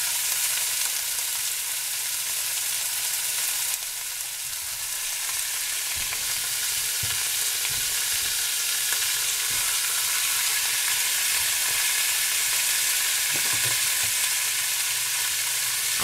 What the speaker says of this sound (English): I'm going to brown off all of my meat.